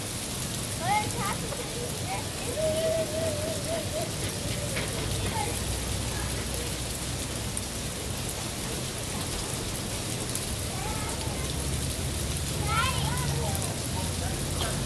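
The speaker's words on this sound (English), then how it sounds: "Snow, sleet, freezing rain." Snow, sleet and freezing rain fall together in Newcastle County, a steady close pattering and hiss of icy precipitation on surfaces throughout, with a few faint voices and brief sounds in the background.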